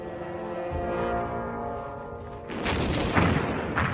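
Gunfire and heavy artillery boom from the coastal guns and strongpoints defending Dieppe during the 1942 raid. A low rumble gives way to a loud, dense burst of blasts and crackling fire.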